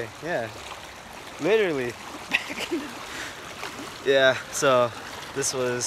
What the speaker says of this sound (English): And if you guys can hear that, that is the sound of the ditch